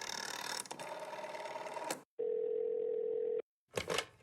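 Telephone dial tone on a call to a realtor, a steady single tone held for about a second, heard alone between mechanical clicking and rattling sounds before and after.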